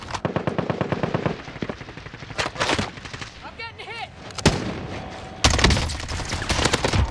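Gunfire in Warzone: rapid automatic bursts and single shots cracking loudly in clusters, broken by short pauses and a brief electronic chirp, heavy and close.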